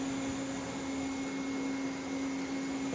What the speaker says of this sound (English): That's the new 10 horsepower Becker vacuum pump.